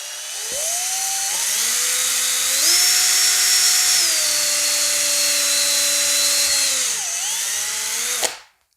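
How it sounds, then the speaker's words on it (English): A power drill whines steadily at close range, its pitch shifting a few times as it bores into plastic, then cuts off abruptly. "Drill is in the chuck"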